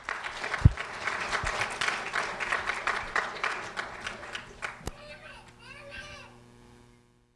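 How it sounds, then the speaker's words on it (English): Applause breaks out at a sheriff's office recognition event, dense clapping for several seconds with children's voices mixed in, then thinning out and stopping. "a round of applause for Elizabeth Harding, please."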